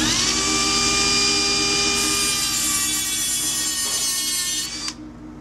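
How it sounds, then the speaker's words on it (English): A Dremel rotary tool with a grinding wheel whines at high speed while scoring a mark on a machine gib, a steady loud buzz that drops in pitch briefly and cuts off near the end. "take your Dremel tool with a grinding wheel in it"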